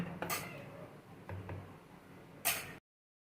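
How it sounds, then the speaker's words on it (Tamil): Cake batter for a Christmas plum cake being mixed in a bowl, a utensil clinking and ticking against the sides in a few quick strokes, with a louder scrape near the end; close and fairly quiet, with no talking. "இது வரைக்கும் போட்ட எல்லா பொருட்களும் மிக்ஸ் ஆகிற அளவுக்கு நம்ம மிக்ஸ் பண்ணிக்கலாம்."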